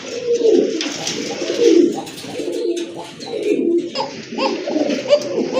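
A pair of bright red Lahori pigeons coo in steady, overlapping rounds, close and fairly loud, with soft bursts of throaty rolling calls repeating throughout.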